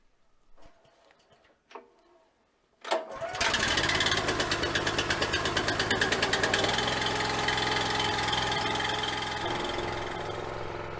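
A log splitter engine on a chilly morning, after a few faint knocks, cranks and fires up into a loud, close, rapidly pulsing run that settles into a steady rough idle.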